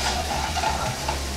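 Chorizo sizzles in a pan while being stirred through, giving a steady, close frying hiss with a low rumble underneath and no talking.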